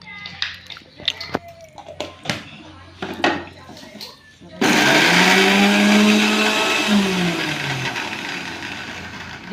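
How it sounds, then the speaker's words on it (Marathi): A mixer grinder whirs loudly as it chops coriander and garlic, starting abruptly midway after a series of close clinks and handling knocks, then running steadily with a slightly falling motor pitch. "आता कोथमीर आणि लसूण बारीक करून घेणार आहे"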